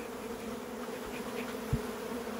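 Agitated honey bees inside a hive box give off a dense, continuous buzzing hum, close and steady, with one brief low thump near the end.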